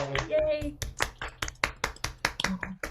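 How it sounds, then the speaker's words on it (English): A few people clapping on an online publication panel call, sharp separate handclaps in an uneven rhythm at close range, with a brief voice at the start. "Just a little round of applause."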